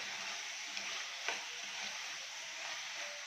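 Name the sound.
stirring onion frying in a pan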